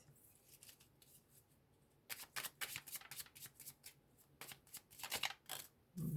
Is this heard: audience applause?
no